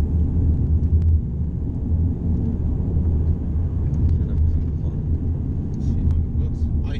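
Road noise from Pirelli P Zero tires on a Mercedes E250, a continuous low droning rumble heard from the cabin while driving, steady and fairly loud throughout, with faint scattered clicks and no words spoken.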